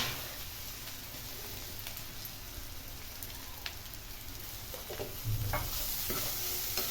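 Banana flower with ground chana dal, dried chilli and fennel frying in a pan, a steady soft sizzle throughout with occasional stirring scrapes and a slightly louder stretch near the end.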